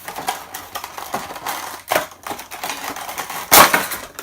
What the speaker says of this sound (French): on va s'ouvrir la Goku